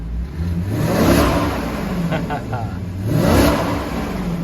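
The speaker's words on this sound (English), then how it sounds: "check out the exhaust here" A 2007 Maserati Quattroporte engine revs twice, its exhaust rising to a throaty roar and falling back to idle, close and loud, with a voice faintly underneath.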